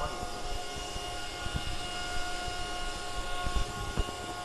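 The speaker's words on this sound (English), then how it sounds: "the miner is starting" An ATLminer cryptocurrency mining rig starts up as its fans spin into a steady whirring roar with a sustained whine, moderately loud, with scattered small knocks and handling noises over it.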